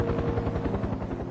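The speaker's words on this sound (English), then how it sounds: "could hear a rescue helicopter in the distance" A rescue helicopter thumps with a steady rotor beat that pulses continuously and fairly loudly, with a low droning throb and no voices.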